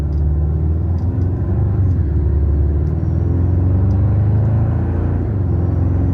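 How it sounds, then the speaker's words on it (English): A 2024 Toyota Tacoma with a turbocharged four-cylinder and MagnaFlow exhaust cruises along, giving a steady low hum and rumble from the cabin with faint turbo whine. "It's the perfect amount of exhaust sound, to me at least. The perfect amount of turbo noise coming through."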